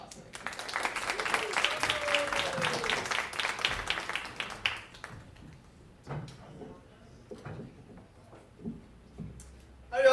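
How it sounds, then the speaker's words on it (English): An audience at a comedy show claps steadily for several seconds, dense and lively, as a comedian is introduced, then the applause fades into a quieter room with a few scattered sounds. "Please give a warm round of applause"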